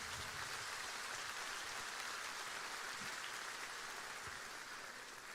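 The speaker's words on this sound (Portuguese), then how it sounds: "pode aplaudir, é muito lindo" A church congregation applauds in a steady, dense patter of clapping that fills the whole stretch at moderate, even loudness, with no voices standing out.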